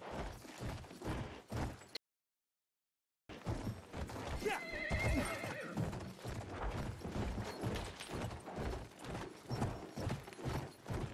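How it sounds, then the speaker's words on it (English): Hooves pound in a steady galloping rhythm while an enemy rider's horse whinnies loudly in the middle, amid Battlefield 1 multiplayer clatter; a brief silent gap interrupts near the start. "Spotted an enemy horse rider."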